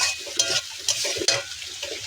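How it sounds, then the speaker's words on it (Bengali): Vegetables sizzle in a hot pan with a bright, steady hiss, broken by repeated scraping stirs of a spoon. "সবজিগুলো প্রায় ভাজা হয়ে গেছে"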